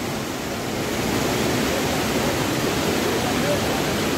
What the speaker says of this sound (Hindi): और ये देखिए नदी का बहाव बहुत ही खतरनाक